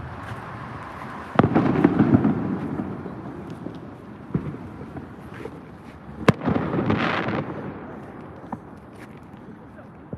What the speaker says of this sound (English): some people are setting off some serious fireworks for no damn reason